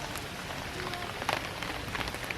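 Rain patters steadily on a truck at a campsite, a dense hiss of drops with scattered sharper taps close by.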